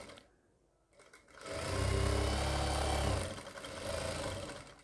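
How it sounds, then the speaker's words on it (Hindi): An electric sewing machine runs a churidar pajama seam in a short close burst of fast whirring stitching, starting up, holding steady and easing off with no talking. "तो जैसे हमने ये पूरी सिलाई लगाई है इसी तरीके से ये वाली सिलाई भी लगा लेंगे"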